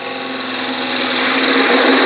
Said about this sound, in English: Cut that little V-cut with a skew.